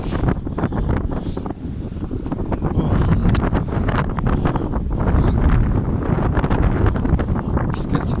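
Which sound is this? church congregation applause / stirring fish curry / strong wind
strong wind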